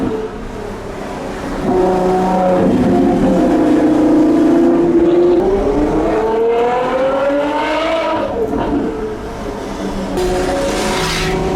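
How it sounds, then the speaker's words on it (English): A Mercedes-AMG One hypercar passes on a public road with a loud, rising engine drone whose pitch sweeps upward and then falls away as it goes by, heard from inside another car. "Oh, being passed by an AMG One."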